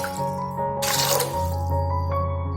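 Water poured from a vessel into an idli steamer pot in a home kitchen, a steady splashing pour with a burst of louder gushing midway, heard close up with no talk.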